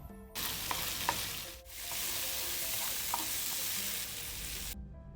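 Spices, green chilli and chopped coriander sautéing in a pan for a mustard fish curry, a steady close sizzle with a few light stirring clinks, briefly dipping midway and cutting off near the end.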